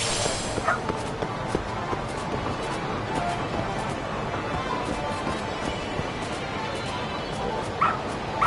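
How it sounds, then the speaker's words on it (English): Dog in the video game Lost Judgment giving soft whimpers and yips over a steady, dense game soundscape, with a couple of brief louder yelps near the end. "Good dog. Very good dog."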